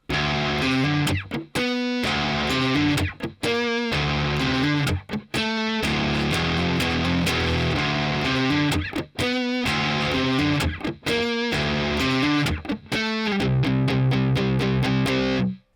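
Distorted electric guitar plays a refrain, chugging loud riffs broken by sharp stops and rapid muted stabs, with a faster choppy run near the end and no voices.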